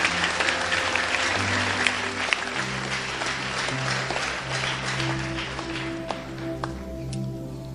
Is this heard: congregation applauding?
yes